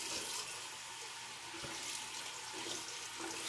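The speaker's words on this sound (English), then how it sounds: "We're gonna rinse, of course, our brush." Water streams steadily from a tap as a hair brush is rinsed beneath it, a close, constant rushing with small splashy changes in the flow.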